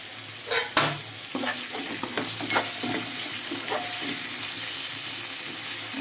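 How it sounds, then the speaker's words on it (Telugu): Tomato pieces drop into a pan of fried onions with a burst of sizzling and a few stirring clatters, then settle into an even, steady hiss, close and unaccompanied by speech. "టమాటా ముక్కలు వేసుకుని మూత పెట్టేసుకుందాం"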